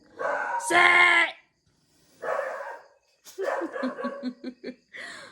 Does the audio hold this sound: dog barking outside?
yes